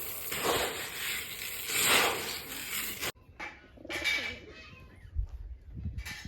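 Soft pigeon coos come and go over a faint outdoor hiss, with a quieter stretch and a few low rustles toward the end.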